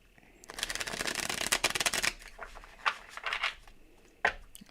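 A Golden Tarot card deck is shuffled close by, a dense riffling burst followed by a few shorter flicks and taps of cards, crisp and fairly quiet with no talking.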